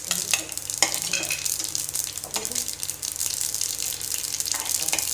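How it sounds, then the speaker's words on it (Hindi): Hot oil sizzling with sharp crackles and pops from spattering mustard seeds, a steady hiss underneath with scattered loud snaps throughout. "ये देखिए, ये तड़कने लग गई है।"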